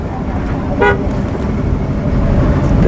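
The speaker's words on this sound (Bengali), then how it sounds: "লক্ষ্য করুন এখানে কিন্তু হর্ন দিচ্ছে সরতেছে না" A short car horn toot sounds once amid constant traffic rumble and road noise.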